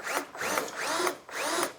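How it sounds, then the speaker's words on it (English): A power drill bores into a snowmobile tunnel in a garage, with close, fairly quiet whirring that rises and falls in four quick pulses. "we get in here, we start drilling"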